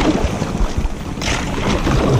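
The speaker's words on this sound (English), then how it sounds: "I'm paddling through ice" An inflatable kayak is paddled through ice, giving a dense, rough crunching and scraping wash with strong wind noise on the microphone. The sound is continuous and close, and no one speaks.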